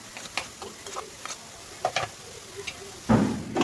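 Chopped tomatoes cook in a pan for veg biryani, giving a soft sizzle with scattered light pops and ticks, then a louder stirring scrape near the end.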